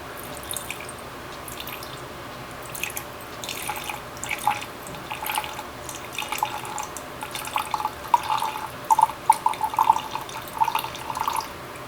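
Orange essential oil poured from a container into a jar sitting on a kitchen scale, a thin trickling, dripping stream with small splashes that grow denser toward the end, close by with no talk.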